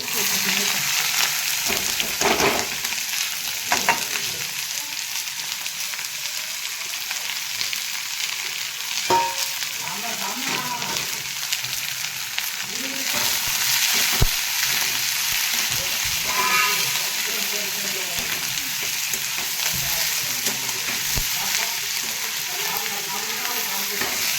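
Onion, green chili and peanuts frying with reddened cumin seeds in a pan, a constant close hiss and sizzle with occasional stirring scrapes and clinks, with no voices over it.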